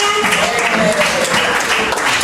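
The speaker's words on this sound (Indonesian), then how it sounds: "beri tepuk tangan dong untuk kita semuanya" Audience applause at an emotion-management seminar, a steady dense wash of many hands clapping together, loud and close, with a sustained tonal line running underneath.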